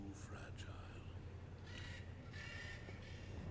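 Crow-like bird cawing in the video game Dante's Inferno, several harsh caws near the start and again later, heard over a low steady game background.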